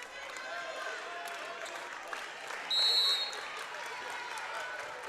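Excited cheering and clapping from a high school volleyball team bench during a semi-final match in a gym, a steady crowd roar with a brief shrill whistle-like tone near the middle, heard from a distance.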